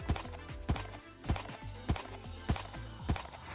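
Rhythmic hoof clip-clop of a horse in the video game The Simple Life 2, steady evenly spaced steps with low thuds, alone and fairly close, no talking.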